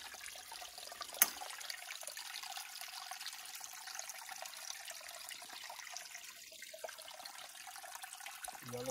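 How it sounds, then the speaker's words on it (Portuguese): Small rural creek running through farmland, a soft steady trickle and babble of water at low level, continuous and unbroken, with no voices. "não é um riacho, né? É um córrego, né?"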